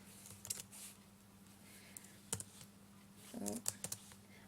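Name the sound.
typing on a computer keyboard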